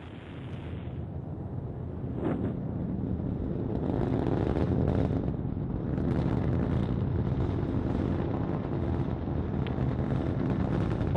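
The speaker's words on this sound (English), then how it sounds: "liftoff of the Delta IV rocket" A Delta IV rocket lifting off with the GOES-O weather satellite roars in a continuous, heavy rumble that swells and holds steady, with crackling texture and wind buffeting.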